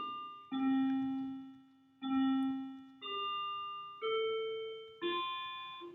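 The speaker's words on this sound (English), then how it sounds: "yes, that's right, that's the bell" A bell rings five separate chimes, each struck about a second apart with a bright ringing tone that slowly fades, the pitch shifting from strike to strike, clear and alone.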